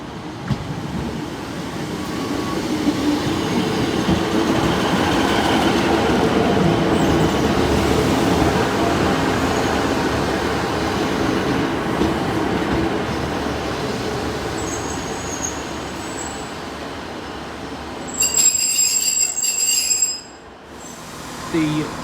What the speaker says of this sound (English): The 10:01 Northern train service from Leeds,